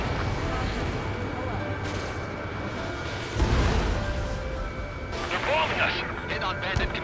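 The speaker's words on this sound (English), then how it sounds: "They're bombing us!" Bombs exploding in an air raid in the combat flight game Ace Combat 7, deep rumbling blasts and crashing booms under radio chatter and music, with a heavy impact near the middle.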